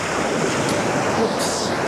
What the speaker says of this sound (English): Oops, there comes the water.